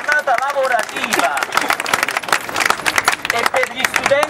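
A protest crowd gathered in a town square claps along as someone speaks loudly over it, with rapid overlapping clapping and general crowd noise.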